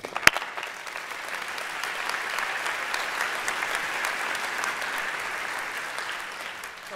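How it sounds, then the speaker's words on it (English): A crowd applauds young speakers at a Miami Music Project event, with a sharp single clap up front and then an even, sustained wash of clapping that carries on without a break. "a next round of applause for them"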